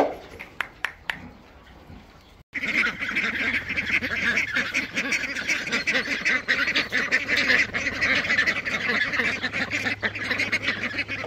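Ducks quack and honk in loud, overlapping calls on a farm, close and continuous after a few sharp knocks at the start, with a voice briefly mixed in.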